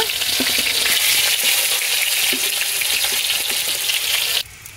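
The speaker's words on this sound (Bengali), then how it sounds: "এবার মাছটা এক পাশ ভাজা হয়ে গেছে, উল্টে দেব" Fish frying in oil in a pan during Bengali home cooking, a loud steady sizzle with crackling spatter throughout, cutting off suddenly near the end and dropping to a quiet hiss.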